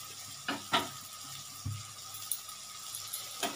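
A spice mixture with jaggery frying in a pan during preparation of a raw banana mash, heard as a faint, soft sizzle with a few light stirring scrapes and taps.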